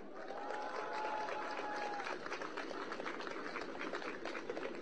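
Applause from a crowd at a Korean political speech by a Democratic Labor Party lawmaker, a steady dense patter of many hands that holds for several seconds, with a few faint tonal voices or whistles riding over it.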